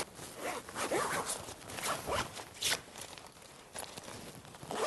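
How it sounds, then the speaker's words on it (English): Zipper on a Fusion 400 awning pulled along in several quick, close rasping strokes, with brief pauses and faint handling rustle between pulls. "And then it's just a case of zipping it up."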